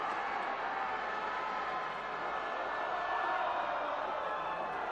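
A rugby stadium crowd at a Munster versus Glasgow match roars steadily after Glasgow's successful kick, a dense, continuous wash of massed voices with no single voice standing out.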